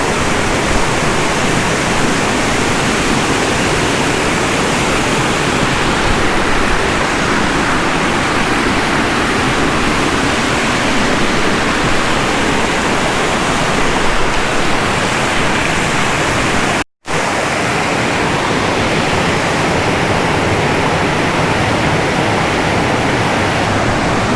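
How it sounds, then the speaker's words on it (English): A waterfall in Dolly Sods roars as a steady, loud, broadband rush of falling water, continuous and close with no voices, broken only by a brief dropout near the end. "There is the first set of waterfalls."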